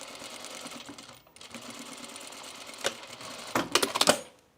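A sewing machine stitches a seam on a 1930s-style blouse, running with a steady whirring drone that swells into louder, rattling bursts near the end, close up and without speech.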